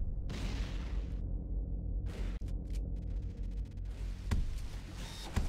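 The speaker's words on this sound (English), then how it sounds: "Shotgun." Shotgun blasts from a video game weapon set in Harbor 9, sounding as a couple of loud, sharp bursts over a dense rumbling backdrop of game noise, with short gaps between shots.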